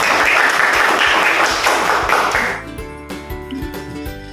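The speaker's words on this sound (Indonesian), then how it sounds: "Berikan tepuk tangan untuk semuanya." Classroom applause from a group of students, a dense burst of clapping that fills the first two and a half seconds, then thins to scattered claps and taps.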